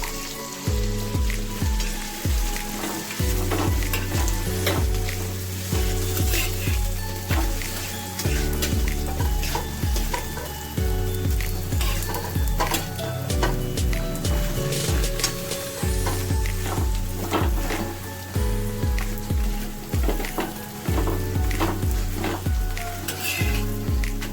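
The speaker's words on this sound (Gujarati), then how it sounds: "અત્યારે ઘી મૂકી દીધું છે ગરમ થવા અને હવે હળદર ઘીસું શેકાવા માટે" Grated turmeric roasting in hot ghee in a pan, a loud continuous sizzle with repeated rhythmic stirring scrapes and clinks of the spoon against the pan, close and without talking.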